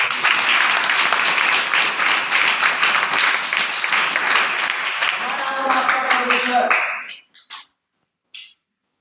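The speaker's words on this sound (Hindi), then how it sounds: "ताली बजाकर" A Sunday prayer-meeting congregation at a Christian worship hall claps hands in a loud, sustained burst, with voices mixed in near the end before it cuts off abruptly into silence.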